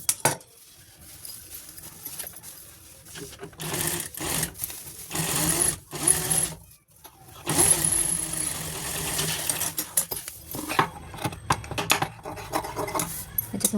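A sewing machine stitches a zipper onto a fabric purse made from a blouse piece, running in steady bursts with brief pauses and some clicks and rattles between runs, close by with no talking.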